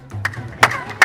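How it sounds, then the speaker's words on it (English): Hand claps at the base of the Chichen Itza pyramid echoing off its stone steps, three sharp claps each answered by a chirping, bird-like echo, close and fairly loud with faint crowd murmur. "you can hear people clapping near the base of the pyramid because the sound echoing off the steps creates"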